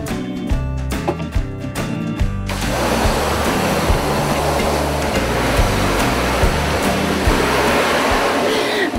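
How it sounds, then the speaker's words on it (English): A pressure washer blasts unhardened emulsion off a screen-printing screen, starting with a few short bursts before settling into a loud, continuous hissing spray that runs steadily to the end. "it could be washed away by the pressure washer"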